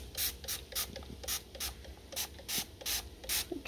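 Cooking spray coats a pan in a quick, even run of about a dozen short, soft hissing bursts, close by and fairly quiet, with no voices.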